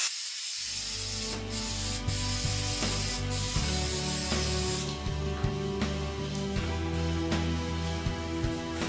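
Spray adhesive hissing onto quilt batting in short bursts over a steady background hum, with a brighter, louder spray through the first half that fades to softer rubbing and smoothing noises later on.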